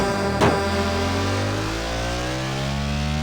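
Motorbike engine in the mobile racing game Traffic Rider, a steady loud drone whose pitch slowly shifts as it revs, with a brief burst of noise near the start.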